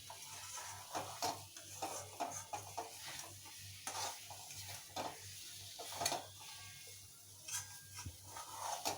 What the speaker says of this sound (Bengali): পনিরটা দিয়ে ভালো করে আবারও 2-3 মিনিট আমরা কষিয়ে নেব।